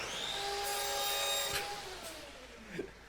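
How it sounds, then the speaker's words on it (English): A lathe in the West of Loathing video game makes a sudden whirring saw noise that sustains loudly, then winds down with a falling tone and a few faint clicks, with no speech. "I was not expecting there to be a sudden saw noise."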